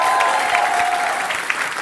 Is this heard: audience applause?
yes